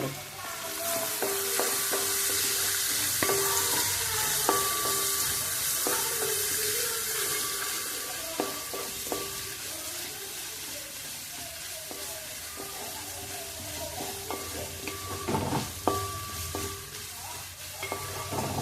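Vegetables and beans sautéing in a pan for fried rice, a steady close sizzle broken by repeated clacks and scrapes of a spoon stirring, with no talk.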